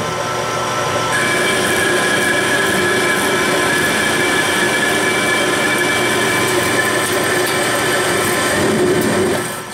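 A lathe takes a deep, heavy cut in 4140 steel, a steady loud grinding machine roar with tonal whine that runs continuously without pause from start to finish.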